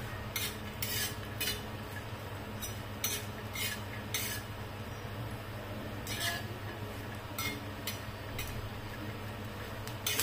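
Soybean chunks and coconut fry in hot oil in a pan, a steady close sizzle broken by frequent sharp clinks and scrapes of a stirring spoon against the metal.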